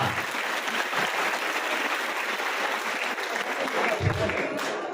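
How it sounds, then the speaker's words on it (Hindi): A large crowd at a Hindi-language gathering breaks into sustained applause, a dense, steady roar of many hands clapping that holds at an even level throughout. "जोरदार ताली हो ना।"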